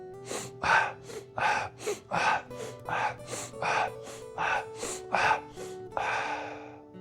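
Strelnikova breathing exercise with head turns: a rapid series of about a dozen sharp, forceful nasal inhalations in steady rhythm, close and loud, with no talking.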